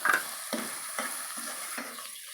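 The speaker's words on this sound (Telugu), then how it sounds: "నెక్స్ట్ ఆనియన్స్ వేసుకుని బాగా కలుపుకున్నాను" Onions fry in a pan with coriander and cumin paste, sizzling steadily as a spoon stirs in regular scraping strokes about twice a second, close up.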